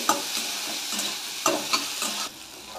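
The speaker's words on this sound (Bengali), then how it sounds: "দেখতে পাচ্ছেন পেঁয়াজটা ভাজা হচ্ছে।" Onions frying in oil with garlic and chilli for egg tadka: continuous close sizzling punctuated by several sharp spatula scrapes and stirs, easing down at the end, with no voices.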